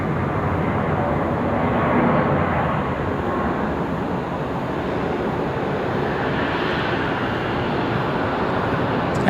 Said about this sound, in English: Absolutely smooth touchdown for that A319.